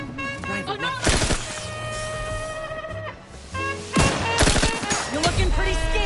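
Rifle gunfire during combat in the video game The Outer Worlds 2 on PS5, with rapid bursts of sharp shots in clusters over a tonal in-game background, and voices speaking between them.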